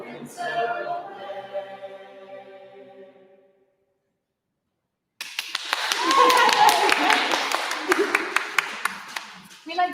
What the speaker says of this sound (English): we like to provide our own claps for online stream